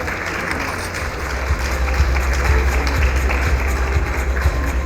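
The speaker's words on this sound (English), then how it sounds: "Round of applause for Mr. Reddy." At a CREDAI Natcon real estate conference, the audience claps as the vice president is called on stage: a steady, moderately loud spread of hands with a low hum underneath, rising slightly midway.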